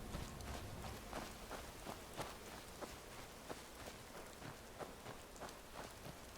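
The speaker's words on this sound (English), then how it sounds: "That rain is deafening." Heavy rain pours steadily in the fantasy video game Skyrim, a dense continuous hiss with soft drop-like ticks and occasional faint footstep-like thuds, loud and unbroken throughout.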